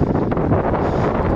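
Strong wind blows on a mountainside in the Stânișoarei Mountains near a cross, buffeting the microphone with loud, continuous low rumbling gusts throughout.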